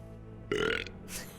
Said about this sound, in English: Belch.